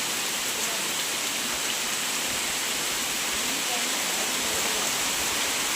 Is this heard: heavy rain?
yes